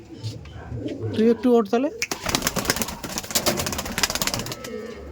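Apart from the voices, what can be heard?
Giribaz pigeons cooing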